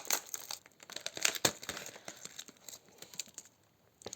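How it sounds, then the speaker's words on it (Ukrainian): A plastic packet of rice noodles (funchoza) being torn open and handled, giving loud, dense crinkling with a sharp rip near the middle, then softer rustles fading out toward the end; no voices. "відкриємо пачечку з цими рисовими макаронами, локшиною"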